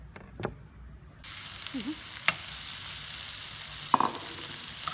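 Chicken pieces hit a hot pan and start searing, a soft quiet lead-in giving way to a steady broadband sizzle, with a few clinks and knocks of a utensil against the pan, close and no talking.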